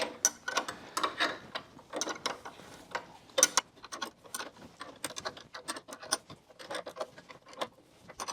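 Blades are tightened on a power trowel with a ratchet wrench, giving rapid rhythmic metallic clicks and clanks in uneven bursts, close and clear, without talking.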